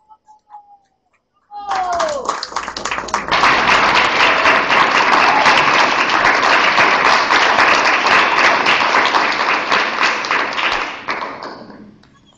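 A theatre festival audience applauds an improvisation team with dense, sustained clapping that swells quickly, holds strong for several seconds, then tapers off.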